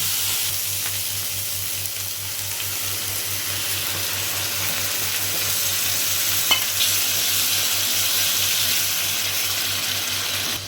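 Beaten curd thinned with water sizzles and fries steadily in a pan for a Bengali doi rui rohu fish curry, with a continuous even hiss and occasional stirring scrapes, close and alone with no talk.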